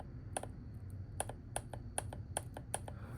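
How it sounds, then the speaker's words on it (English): A GM charcoal canister vent solenoid valve, powered from a jump pack on the bench, gives a series of sharp, faint, irregularly spaced clicks about once every half second over a low hum. "I'm gonna turn it on so you can hear it. All it's gonna do is click."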